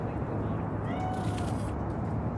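A cat meows in the video game Cyberpunk 2077, a thin, drawn-out call heard faintly over a dense, steady bed of ambient game noise.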